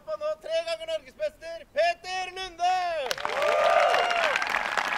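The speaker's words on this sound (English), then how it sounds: "The crowd appreciating his amazing play." A voice speaks, then crowd applause at the 2019 NDGC disc golf championship final round swells up and continues loudly, with a few cheers mixed in.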